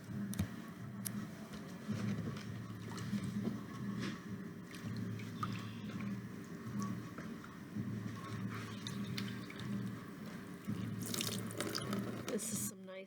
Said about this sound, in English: Now I am going to put these in the water and show you that and swish them around.